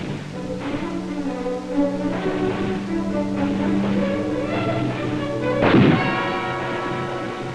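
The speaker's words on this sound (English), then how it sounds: "Initial firing with the M1 is done at close range, one round at a time." M1 rifles fired by Marine recruits at close range, one round at a time, several sharp booming shots spaced a second or so apart over a steady background hum.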